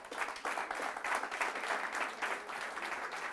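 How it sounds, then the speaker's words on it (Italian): Applause from a studio audience at an Italian variety show, a sustained, fairly distant patter of many hands clapping evenly with no talk over it. "un applauso"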